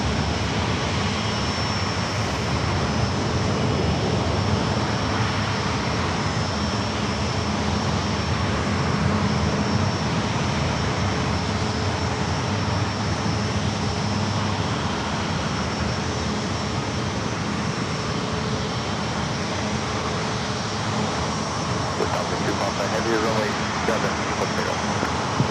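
An airplane at San Diego airport lines up for takeoff, giving a steady, broad engine roar with a faint high whine that stays level throughout.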